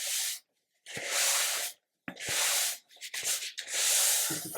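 Cloth wiped along the grooved hull of a 1/200 scale Scharnhorst plastic model ship, making close, dry rubbing strokes in bursts separated by short silent pauses.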